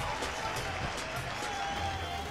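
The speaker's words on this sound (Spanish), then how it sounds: "Le damos un aplauso al equipo azul que ha ganado" A studio audience applauds the winning blue team on a television game show, dense continuous clapping with crowd noise and some voices mixed in.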